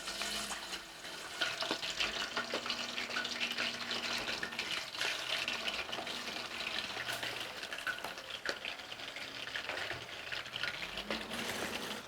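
Carnitas frying in hot oil, a steady crackling sizzle running throughout at close range with occasional clinks and stirring noises, no talk.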